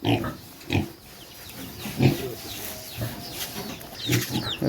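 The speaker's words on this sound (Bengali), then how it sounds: "ওর বড় সাইজের শুয়োর একদম।" Large local pigs at a hill-village homestead grunt in several loud, close bursts over a steady outdoor background, with faint bird and chicken sounds in the distance.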